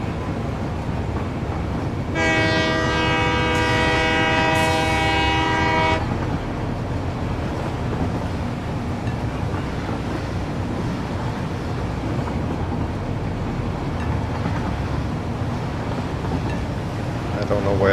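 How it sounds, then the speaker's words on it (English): A train in the video game Satisfactory rolls along with a steady rumble, and a loud multi-tone horn blares for about four seconds near the start before the running noise continues alone. "The train is headed to Schmega."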